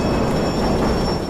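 Speeding subway train in the fighting game Def Jam Fight for New York: a loud, continuous rushing roar with rattling wheels and a thin high squeal, close and sustained, with no voices.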